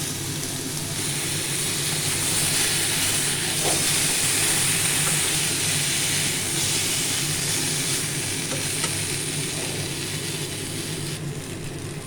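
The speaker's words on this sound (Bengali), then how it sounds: "পটলে আমি নুন আর হলুদ দিয়ে ভেজে নেব" Pointed gourd frying with salt and turmeric in a hot pan, a steady broadband sizzling hiss that stays even and close for the whole stretch with no pauses.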